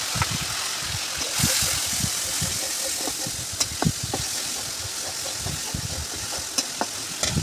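Spices sauté (bhuna) in a hot pan, giving a continuous sizzling hiss broken by frequent scraping and knocking sounds from stirring.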